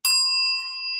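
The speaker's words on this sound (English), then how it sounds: "this was the bell we had at the front desk to call the bellman over" A hotel front desk call bell struck once, giving a clear bright ding that rings on and slowly fades, alone with no talk.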